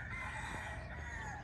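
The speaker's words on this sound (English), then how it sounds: "Cue the rooster." A rooster crows on a morning in Kihei, South Maui, facing east toward Haleakala, a single drawn-out call at moderate distance over steady ambient outdoor noise and birdsong.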